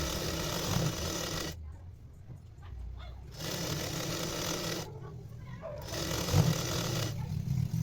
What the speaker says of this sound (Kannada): ಮೊದಲೇನೆ ನೋಡಿ ಈ ರೀತಿ ಸೈಡ್ ಸ್ಟಿಚ್ ಅನ್ನ ಹಾಕೊಂಬಿಡಿ.